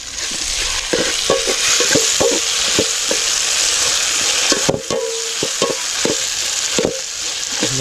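Chicken curry with ginger garlic paste is stirred in a sizzling pan, a loud steady fry broken by repeated sharp scrapes and knocks of the spoon against the vessel.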